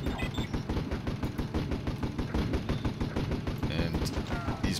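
Rapid machine gun fire from guard towers in the strategy game Warzone 2100, a dense, continuous rattle of bursts throughout with overlapping battle noise, loud and steady, while someone talks over it.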